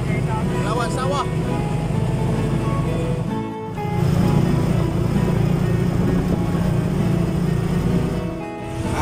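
Tuk-tuk engine on a ride in Tanjong Karang, a continuous loud, close motor drone with a brief dip partway through, while people talk over it.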